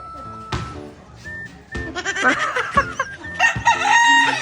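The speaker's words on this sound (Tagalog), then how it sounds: "yabang na manok ni Boss Andrew" A rooster crows loudly and close by in a long, strained call, with clucking and other farmyard animal noises around it, including a turkey.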